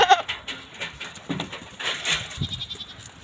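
Several goats in a desert let out short, overlapping bleats in quick succession, fairly close and moderately loud.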